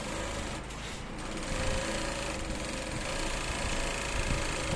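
A sewing machine runs steadily and close by as it stitches a trouser front pocket, giving a continuous mechanical whir with no clear pauses and no talking.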